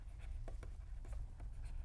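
Quiet scratching of a pen writing address lines by hand, a few soft strokes over a steady low hum, close but faint.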